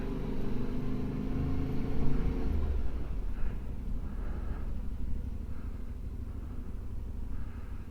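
A car rolls along a gravel road, a steady low engine rumble with a droning hum that fades after a few seconds into a rougher crunching, rattling road noise, close and continuous without voices.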